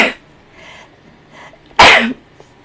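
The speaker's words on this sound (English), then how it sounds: "I'm about to sneeze." A person sneezes once, loud and close, after a few soft breaths and small sounds in a quiet room.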